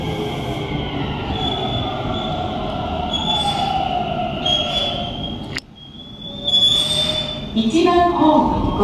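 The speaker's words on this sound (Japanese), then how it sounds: "電車が通過いたします" A train passing through the Higashi-Kitazawa underground temporary platform on the Odakyu Odawara Line, with loud high-pitched wheel squeal, rumbling rail noise and an abrupt clunk midway, close and growing louder, with platform announcements heard faintly.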